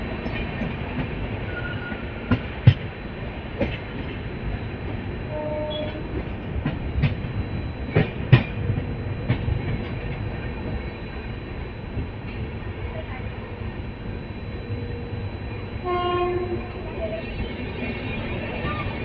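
Humsafar Express train running on rails near Sahibabad, heard from on board as a steady rolling rumble with occasional sharp clicks and clanks, and faint voices in the background.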